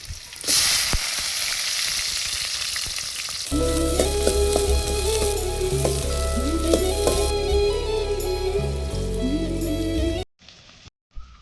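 Onions frying in a pan on a wood-fired stove, a steady close crackling sizzle with faint stirring scrapes that runs for most of the clip before cutting off near the end.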